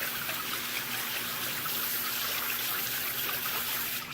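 Warm water, about 100 degrees, runs steadily over a gun coated in thermochromic paint, giving a constant hissing splash that stays even and close for the whole stretch, with no talking.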